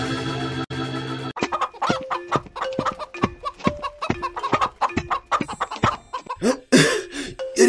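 A chicken clucks loudly and close up in quick, choppy bursts that repeat over several seconds, after a brief steady humming tone at the start.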